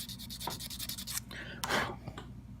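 A sanding twig rubs back and forth over a mold line on a small plastic part, producing close, faint, rhythmic scratchy strokes, with a longer rasping pass near the end.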